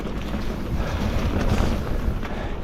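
Strong, steady wind buffeting the microphone with a low roar, constant and loud throughout, no voices, on an enduro mountain bike trail.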